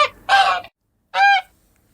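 A goose gives two honks, loud and close, separated by a short pause, with a brief fainter squawk just before the first and near silence after the second.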